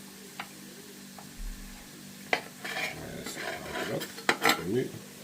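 A knife cuts through ingredients on a wooden cutting board while a Mexican-style bean dish is prepared, giving a few sharp, irregular knocks with light clatter and faint murmuring voices in the background.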